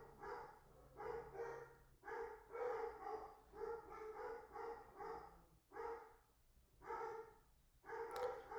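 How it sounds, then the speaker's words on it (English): Several dogs barking repeatedly downstairs in a home, bursts of barks in uneven clusters over about eight seconds, moderately loud but a room away, with no talking. "my dogs are having a fit downstairs this morning"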